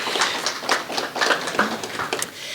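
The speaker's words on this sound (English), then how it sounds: "So if you can give her a round of applause, that would be great." Audience applause at a community presentation on the Legacy Woods project in Iowa, steady scattered clapping from a modest crowd lasting a few seconds, moderately close with no talk over it.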